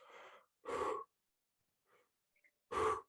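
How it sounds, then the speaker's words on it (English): Heavy, raspy breaths in and out over a phone line, two loud close gasps separated by quiet pauses and faint small sounds in between. "the breathing throughout this film, it just adds to the atmosphere, to the character"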